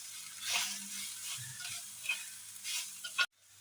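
Crushed coconut stirred in a pan while cooking banana blossom makes a soft continuous sizzle with gentle scraping sweeps of the spoon, close and steady, ending in a sharper knock before silence.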